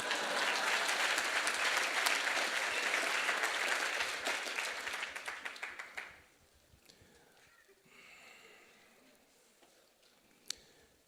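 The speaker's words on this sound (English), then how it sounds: "Give her a round of applause." An audience at an environmental group's 50th anniversary celebration breaks into dense, steady applause for several seconds, which then thins out to scattered, fading claps and near silence, with one last sharp clap near the end.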